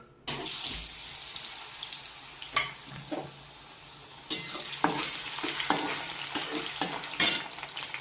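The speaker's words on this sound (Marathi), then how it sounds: "आता ह्याच्यामध्ये बटाटा आपण पहिल्यांदा फ्राय करून घेऊया" Cut potato pieces frying in hot oil for sabudana khichdi, a close, steady sizzle broken by several sharper bursts and scraping stirs as the pieces are moved around the pan, with no voices.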